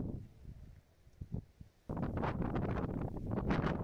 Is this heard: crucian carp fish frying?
no